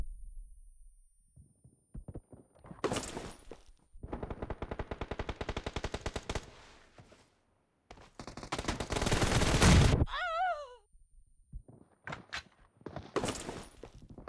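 Automatic weapons fire in bursts in the BGMI team deathmatch mobile shooter. A long rapid-fire stream is followed by heavier, louder volleys and scattered shots, with a brief whooshing effect between bursts, and there is no talk.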